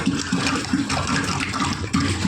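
Water is poured or gushes into a container for drinking, a loud, continuous splashing rush with rhythmic surging pulses and no voices.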